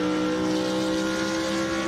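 Race cars speed along a circuit during a race, their engines making a steady, loud, continuous drone with sustained tonal harmonics and no one speaking.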